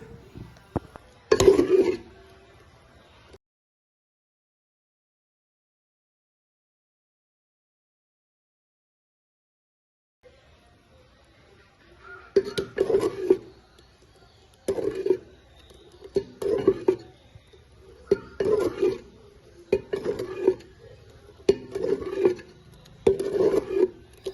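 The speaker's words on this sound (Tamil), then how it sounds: "அடுத்ததான் நல்லா திக்காகும் வரை நாங்கள் கிளறி கொண்டே இருக்கணும்" Thick cassava thothal stirred in a pot: after a brief scrape and a pause, a steady run of rhythmic scraping and knocking strokes against the pot, close and regular, with no talking.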